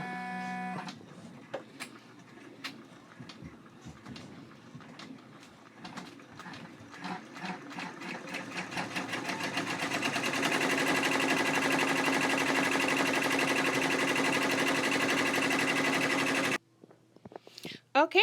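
An embroidery machine stitches a bag tag held in a hoop, starting with sparse ticks and then building to a fast, steady mechanical chatter of needle strokes at close range before it stops abruptly. A bird coos faintly and irregularly in the background.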